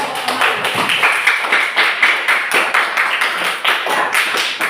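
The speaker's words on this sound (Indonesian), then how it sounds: "silakan tepuk tangan dulu untuk kelompok emas" Classroom clapping for a student group, a rhythmic run of fairly close hand claps in a steady repeating beat from a small group, loud and continuous with no talking over it.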